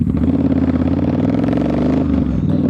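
A motorcycle rides across a bridge in traffic, its engine note steady and loud with a reverberant, echoing quality from the bridge structure, droning continuously throughout.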